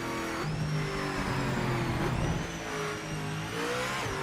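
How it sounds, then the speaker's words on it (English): A Cadillac race car engine revving in the Project Motor Racing game, a loud, continuous buzzing drone with pitch climbing and dipping through gear changes, heard close with no talking. "they really should fix the sound for the Caddy. It sounds so bad."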